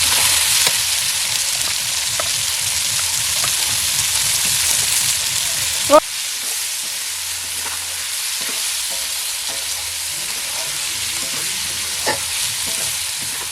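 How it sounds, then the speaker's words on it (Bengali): Garlic and onion fry in hot oil with a loud, steady sizzle and crackle, punctuated by occasional stirring knocks, while a voice talks over it. "রসুন আর চিনি দিয়ে তেলে রসুন দিয়ে দিল তারপরে এই পেঁয়াজ দিয়ে দিল বন্ধুরা"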